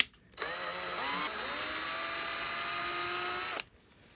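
A drill press whirs up and runs steadily while drilling through a brass bolt, with a sustained motor whine that shifts in pitch as it spins up, then cuts off abruptly.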